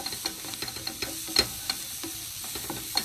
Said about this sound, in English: So it's like little bit sizzling.